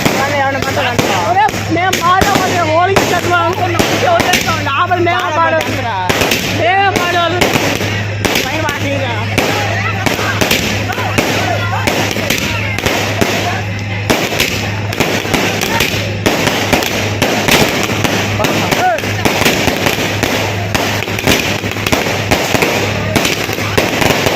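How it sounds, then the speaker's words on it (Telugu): Firecrackers burst in dense, rapid volleys during a village Ganesh festival procession, loud and continuous crackling throughout, with crowd voices mixed underneath. "క్రాకర్స్ అయితే ఎంత భారీ ఎత్తున అయితే కాల్చారు"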